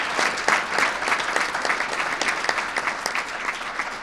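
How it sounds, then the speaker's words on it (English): Sustained audience applause for Gary and Wendy at a Project Exile public safety event with the New York governor, steady dense clapping from a crowd throughout. "Let's give them a round of applause as well."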